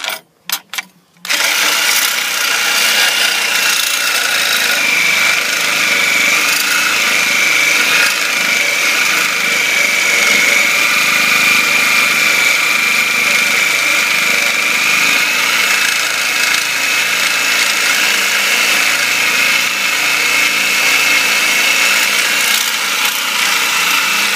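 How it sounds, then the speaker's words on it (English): Reciprocating saw (Sawzall) cutting through a stuck, rusted brake rotor, a loud continuous buzzing saw drone that runs steadily for over twenty seconds after a brief start, close up with no talking. "And now he's going to take the Sawzall."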